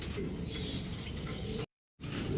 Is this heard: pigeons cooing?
yes